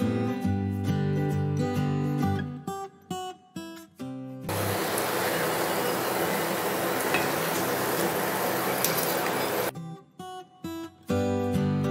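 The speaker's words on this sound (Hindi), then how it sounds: "फ्राई कर लेंगे" Masala mathri frying in hot oil, a steady loud bubbling sizzle lasting several seconds, set between stretches of music.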